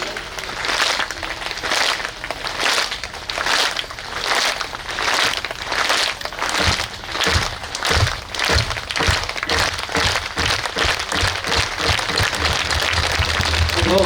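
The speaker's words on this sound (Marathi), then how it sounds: "सगळ्यांनी गोड एका स्वरात एका तालात एकदा टाळी वाजवा" A kirtan audience claps in unison, producing a long run of steady, evenly spaced rhythmic claps with a little voice in the background.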